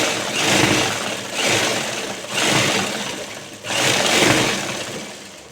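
A sewing machine stitches a seam in salwar fabric, running in four close, loud whirring bursts separated by short pauses.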